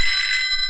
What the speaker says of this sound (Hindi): फोन बज रहा है तेरी बोगस बाप।